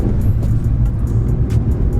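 A low-mileage Mitsubishi Evo VIII drives along the road, its engine producing a loud, steady low rumble with continuous road and cabin noise throughout.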